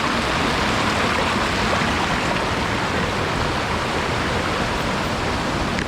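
Bagong Falls in Malico, San Nicolas, rushing water pouring down in a constant dense roar, close and loud with no break and no voices.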